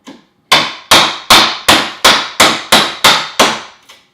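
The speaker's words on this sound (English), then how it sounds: "Lower the end of the chisel and keep tapping." A hammer taps a chisel into a wooden door frame to peel out material, nine sharp, evenly spaced strikes after a faint first tap, loud and close with no talking.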